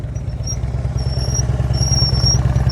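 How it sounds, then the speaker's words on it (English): A motorcycle engine idling and blipping its throttle during slow-speed riding practice, a steady close low rumble with faint pulsing surges and a thin high whine over it. "Now listen to his throttle."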